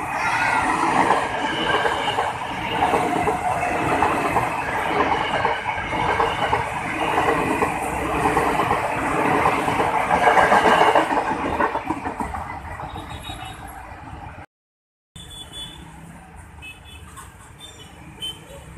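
Train passing Buaran station, a steady loud rumble and clickety-clack of rail cars that rolls on for several seconds, then fades away into quieter station ambience with a brief cut of silence.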